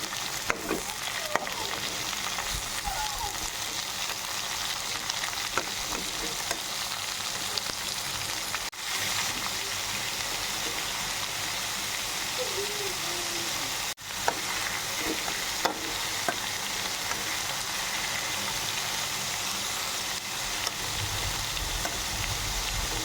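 Ridge gourd sizzles steadily as it fries in a pan for a ridge gourd tempering, with a spoon scraping and stirring at intervals and a few sharp clicks, close and continuous throughout.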